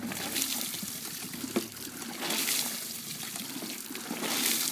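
Water pumped through a gold prospecting rocker box splashes and trickles steadily at close range, with a soft mechanical clunk partway through and no voices.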